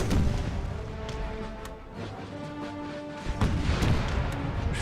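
Musket volleys and artillery from an Empire Total War battle as Britain fights in New Spain: dense, rumbling booms and crackling shots that roll on without a break, with a heavier burst near the end.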